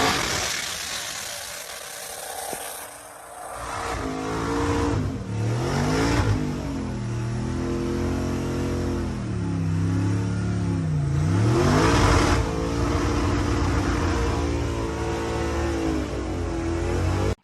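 A twin-turbo 6.0 LS engine revs hard during a burnout, a loud, close roar that climbs and falls in repeated sweeping surges and keeps running nearly throughout.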